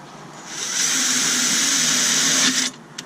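Power drill boring small holes for a furnace chimney spark arrestor, a steady high whine lasting about two seconds after a brief spin-up, close and loud, then cutting off with a small click.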